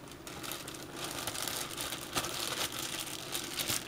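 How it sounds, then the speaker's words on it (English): A clear plastic bag worn as a glove crinkles continuously and close up, a dense rustling texture with no talk. "Can't find a glove, so I'm just using a clear plastic bag."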